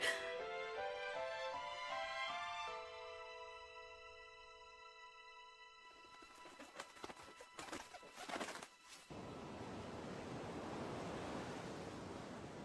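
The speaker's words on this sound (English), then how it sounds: "I could hear the sound of the waves. Like I was sleeping right on the beach." Soft ocean waves washing onto a beach, a faint, steady hiss of surf that rises in the final few seconds after a stretch of gentle music tones and a few brief clatters.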